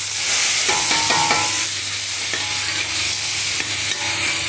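Chopped vegetables frying in hot oil in a pan, a loud close sizzle with scraping stir strokes early on, then a steady hiss, no talking.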